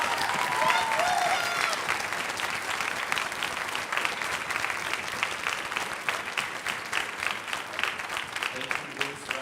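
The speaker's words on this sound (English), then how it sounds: "Let's give them a rounding round of applause." Orchestra concert audience applauding senior winds, brass and percussion players, steady dense clapping with a few early cheers, sustained for several seconds at moderate loudness.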